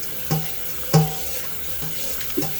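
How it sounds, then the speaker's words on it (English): Water from a kitchen sink tap runs and splashes in short bursts while sea moss is rinsed, with a few sharper clunks against the basin. "even the sink sounds gritty."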